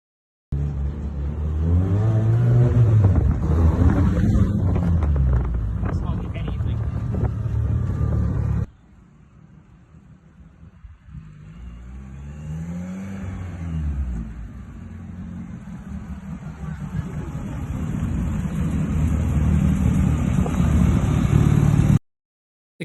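A classic Mini fitted with a Rover K-Series engine is driven for the first time, its engine droning loud and close with rising and falling revs, then a sudden cut to a quieter stretch before the engine noise builds again.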